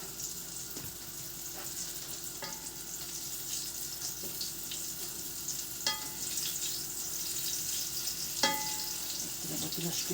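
Soft, steady sizzle of syrniki (cottage cheese pancakes) frying in a pan, with occasional light clicks and scrapes; no voices.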